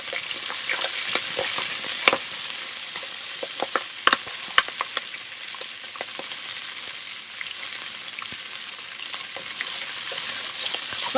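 Okra sautéing in a pan over fried onions with curry leaves and salt for vendakkai sambar, making a continuous close sizzle broken by sharp scraping stirs and clicks of a spatula, with no voices.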